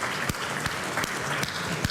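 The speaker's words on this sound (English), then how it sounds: "Could we just have a big round of applause for the panel?" Audience applause for a conference panel at an Arabian horse racing forum in Madrid, a steady patter of many clapping hands at moderate volume.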